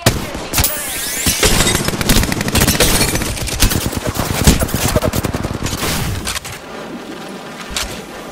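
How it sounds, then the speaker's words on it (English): Dense, loud gunfire fills a battle royale video game match, with rapid overlapping shots and bursts crackling continuously before thinning out near the end. "They're shooting at me!"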